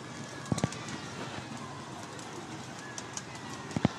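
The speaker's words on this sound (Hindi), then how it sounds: "देखें ये ज़ीरा कबूतर चेक करें" Pigeons at a rooftop loft give low cooing with two short bursts near the start and end, over a steady outdoor hum with faint background noise and no clear speech.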